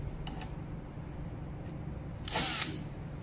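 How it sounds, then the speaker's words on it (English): A screwdriver fastens the corner cover on an interactive flat panel during an IR touch frame replacement, heard as a few faint clicks followed by one short, loud burst of whirring near the end. "fix this cover, this corner cover, and then use the screwdriver to fix it like this way"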